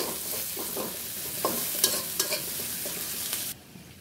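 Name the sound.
onions frying in leftover fish-frying oil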